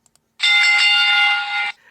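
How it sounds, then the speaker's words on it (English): A loud electronic bell rings in one sustained, steady burst of bright tone lasting over a second, then cuts off abruptly, with no talking over it. "There's the bell, folks"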